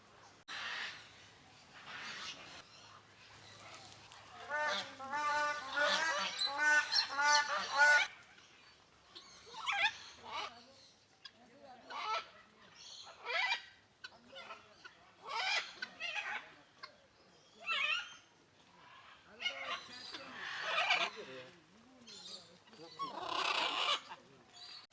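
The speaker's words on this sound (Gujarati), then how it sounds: "બહુ મસ્ત અલગ અલગ બધા પ્રાણીનો અવાજ આવી રહ્યો છે." Birds call at a jungle safari in the monsoon, a busy mix of honking, clucking fowl-like cries in repeated bursts, loud at first and then scattered, with faint talk underneath.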